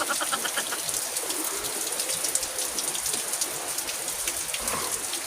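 Steady rain falls outdoors in a natural setting, a dense continuous patter of drops on surfaces, even and fairly loud throughout with no talking.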